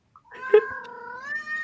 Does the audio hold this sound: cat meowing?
yes